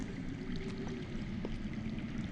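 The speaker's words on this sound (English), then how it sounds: "That's water. I hear water. From underground." Underground water flows and gurgles steadily in a cave setting of the Game of Thrones video game, a faint, continuous low rushing with no voices.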